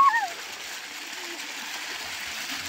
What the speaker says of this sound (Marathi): जी आमची विहीर आहे तिथून पाणी येतं या टाकीमध्ये